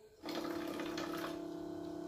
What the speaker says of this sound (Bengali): এই দেখছো জল বেরোচ্ছে, এই দেখো